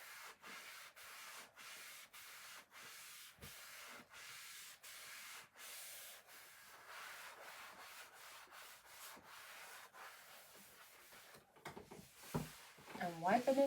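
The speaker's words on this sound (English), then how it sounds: "So I am scraping away, getting this all off of here." Chalk paste scraped off a stencil in repeated short rasping strokes with a steady rhythm, close and fairly quiet, ending in a brief burst of heavier handling noise.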